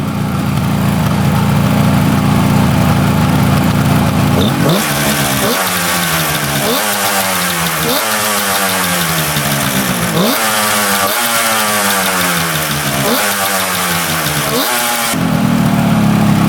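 A rare two-stroke triple motorcycle engine runs loud and close while burning off carbon or debris in the exhaust, a steady raspy idle breaking into a series of rhythmic rising revs and drops.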